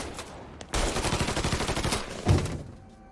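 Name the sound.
gunfire in Mafia III video game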